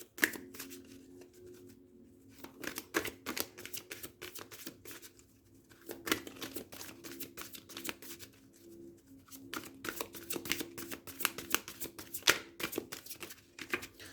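An astrology card deck being shuffled by hand, with rapid crisp riffling and flicking card sounds in repeated bursts, close and fairly quiet, continuing throughout with short pauses.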